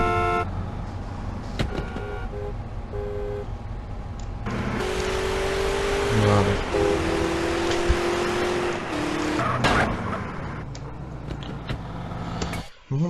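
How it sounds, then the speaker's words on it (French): Car engines in the video game GTA San Andreas rev and drone steadily, with pitch shifts as a vehicle accelerates and some abrupt cuts, and a brief spoken word near the end. "Vous entendez donc bien les moteurs."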